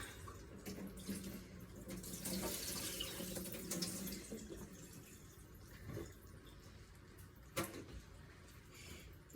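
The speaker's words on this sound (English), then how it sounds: "So I wash my onions." Water runs steadily from a tap into a sink as onions are rinsed under it, with faint splashes and a brief knock near the end.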